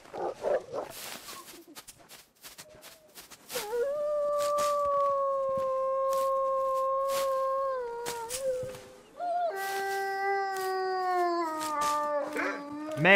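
Wolves in the snowy wilderness of the game The Long Dark howl in long, sustained, wavering tones, first one and then several overlapping as a pack, loud and near, with some brief yips and no talking.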